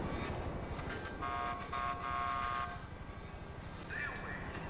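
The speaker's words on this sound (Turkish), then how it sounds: "Aa, metroya gelmişiz." A subway train arrives at a metro station in GTA 5, its rumble and mechanical tones running steadily with a brief whine near the end; a voice speaks faintly over it.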